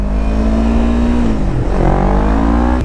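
Yamaha R3 motorcycle engine held at a steady high rev for a wheelie attempt, then briefly dipping and climbing again, loud and close with no talking.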